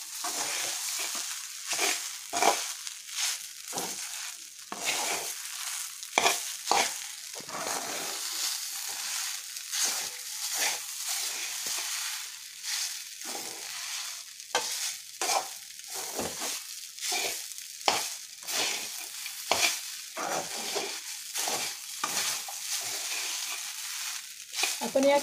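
Raw grated potato being stirred into sabudana khichdi cooked without oil in a pan, giving a steady run of scraping, sizzling stirs with many short bursts, close and fairly loud, with no talking.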